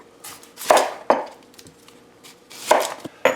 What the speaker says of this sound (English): We're gonna chop this up in nice little chunks.